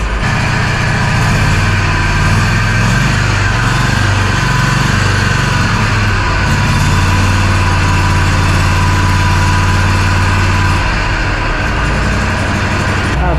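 A Walker Superbee 52-inch rear discharge mower, being repaired for fuel and ignition problems, runs steadily up close with a loud, continuous engine drone. The speed fluctuates slightly throughout.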